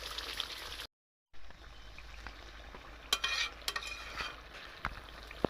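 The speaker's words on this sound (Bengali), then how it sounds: "এখন গরম মশলা বাটাটা দিয়ে দিচ্ছি, আর একটু নাড়াচাড়া করে দেবো" Garam masala paste is stirred into a chicken and pointed gourd curry, with a steady low sizzle and a few sharp scrapes of a spoon against the pan, close and moderately quiet, broken by a brief silent gap.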